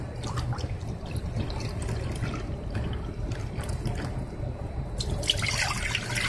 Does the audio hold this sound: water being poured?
yes